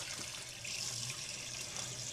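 Tap water runs steadily over a waterproof electric shaver being rinsed under a faucet, a soft, even hiss of flowing water, close and fairly quiet, with no talking.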